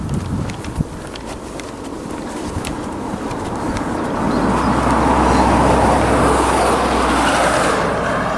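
A car passing on a road by the front gates of the old North Wales Hospital grounds in Denbigh, a rising wash of tyre and engine noise that swells and holds loud near the end, with wind and footsteps earlier.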